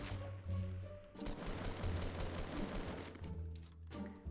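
Rapid bursts of gunfire in a shooter video game, quiet and compressed, with a sustained volley in the middle between lower droning stretches and no talking.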